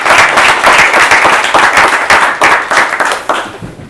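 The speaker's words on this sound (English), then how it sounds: "If we can give them a round of applause for helping." Audience applauding at a tech ecosystem talk, a steady wash of many hands clapping with irregular bursts, loud and close, continuing throughout with no one speaking.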